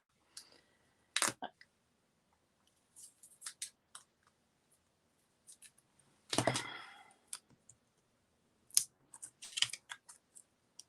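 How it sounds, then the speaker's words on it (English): Scissors snip through printed cardstock for handmade Valentine cards in a few quick, sharp bursts with quiet gaps between them, close and crisp. "Let me cut that one down. If I can find my scissors."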